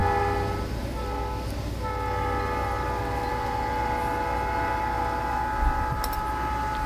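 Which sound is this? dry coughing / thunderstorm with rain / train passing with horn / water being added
train passing with horn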